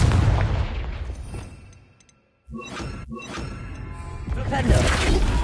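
A Confringo spell blast in Hogwarts Legacy erupts as a loud explosive crack followed by shattering debris, preceded by a cluttered mix of game effects and a short silence, with a voice calling out spells.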